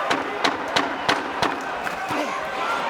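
Arena crowd at the Crawford vs Kavaliauskas world title boxing fight roaring and cheering, with sharp repeated bursts of shouts rising over a constant loud din.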